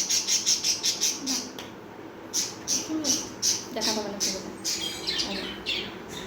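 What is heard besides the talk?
birds screeching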